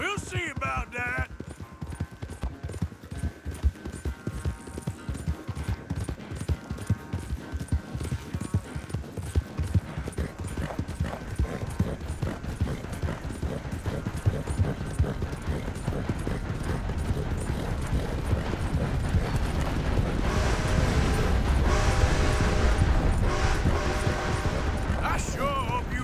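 Horse galloping in Red Dead Redemption 2, a steady rapid clip-clop of hooves building into a fuller rumbling gallop, close and continuous, with a voice speaking briefly over it.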